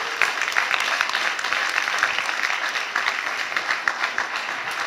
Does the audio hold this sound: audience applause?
yes